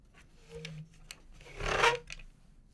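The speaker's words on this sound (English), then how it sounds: "we're going to unscrew these 4 golden screws around the controller" Small golden screws being unscrewed from a game controller, giving soft scraping, rubbing and rasping sounds close up with a louder gritty burst midway, no speech.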